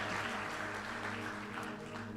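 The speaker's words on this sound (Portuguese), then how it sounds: "Uma salva de palmas para o Senhor" A short burst of applause from a church congregation mixed with a sustained musical tone underneath, the clapping dense and steady at moderate loudness.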